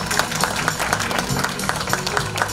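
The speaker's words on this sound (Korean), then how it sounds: "큰 박수로 환영해 주시죠." An audience applauds to welcome guests at an outdoor ship departure ceremony, a steady, dense wash of clapping that holds at an even level throughout.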